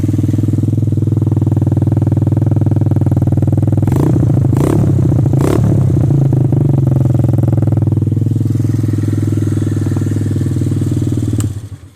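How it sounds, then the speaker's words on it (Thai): A 150cc ATV with 12-inch wheels starts up, a few sharp clattering bursts of cranking followed by a steady, close exhaust idle that runs on alone until it stops near the end. "สตาร์ทติดง่ายเลยทีเดียวนะครับฟังเสียงท่อเสียนะครับผม"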